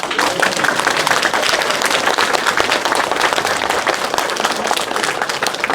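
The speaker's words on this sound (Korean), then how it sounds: "큰 박수 한번" A big round of applause from a seminar audience, dense continuous clapping from many people that stays loud and even for several seconds with no voices over it.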